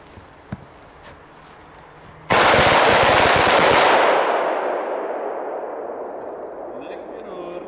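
Cobra and nitrate firecrackers set off in a forest: after a few quiet ticks, a sudden very loud burst of rapid crackling blasts, followed by a long rumbling echo that slowly fades through the trees.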